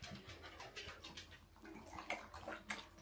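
Small dog Alfie laps water, a quick wet run of splashy licks in an indoor room, faint and close, with no talking.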